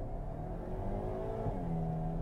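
A 2022 Hyundai Kona N accelerating hard, its engine note rising steadily in pitch with a brief dip like a gear change, heard from inside the cabin at moderate volume with no talking.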